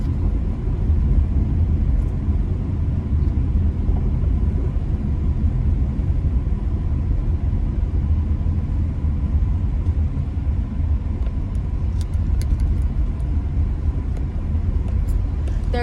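Steady low road rumble from inside a car driving through hilly North Phoenix residential streets, a continuous engine and tyre drone at even loudness throughout.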